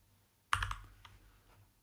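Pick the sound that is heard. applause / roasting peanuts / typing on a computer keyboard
typing on a computer keyboard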